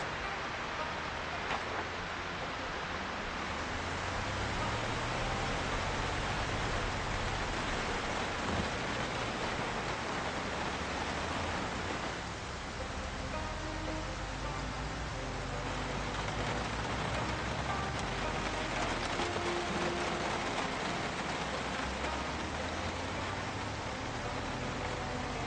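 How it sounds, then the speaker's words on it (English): Steady rain falls over a Project Zomboid farm plot with crops, a dense, even hiss of drops with no gaps, moderately quiet and unbroken throughout. "Crops are looking nice and happy with all that rain falling on them."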